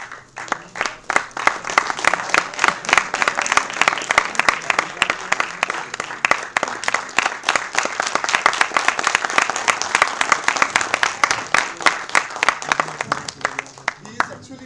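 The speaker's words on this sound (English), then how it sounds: "A huge round of applause." An audience at a faculty development program claps together in a dense, sustained round of applause, strong throughout and tapering off near the end, with a voice speaking faintly underneath.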